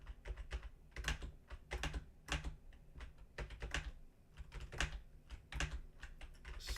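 Computer keys are pressed in quick irregular bursts during a game, sharp close clicks and clacks clustering in short runs with brief pauses, fairly quiet overall and no talking.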